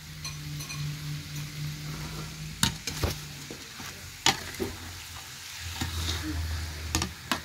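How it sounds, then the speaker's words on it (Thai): Catfish stir-fried with garlic and pepper in a pan gives a steady, close sizzle broken by several sharp scrapes and clatters of the spatula, with no voices. "ผัดจนเนี่ยไอ้เครื่องทุกอย่างที่เราใส่ลงไปมันไอ้เนี่ยซึมหายไปในเนื้อปลาจ้ะ"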